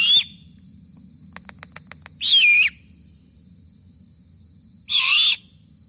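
Immature Bonaparte's gull giving its begging call: two loud, high, wavering squealing cries a few seconds apart, with a short burst of rapid clicks between them over a steady high tone and low background rumble.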